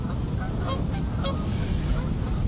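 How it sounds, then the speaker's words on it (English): Canada geese honk repeatedly beside a UK coarse fishing spot, their calls fairly distinct over a steady broadband outdoor rumble of wind or water. "Oh, they're Canada geese, I think."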